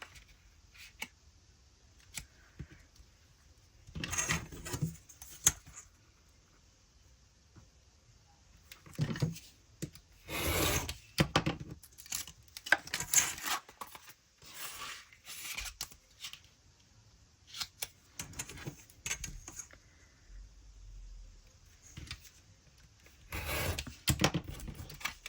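Scissors snip through cardstock packaging in scattered bursts of crisp cuts, fairly close and moderately loud, with quiet gaps and light handling rustles between them and no talking.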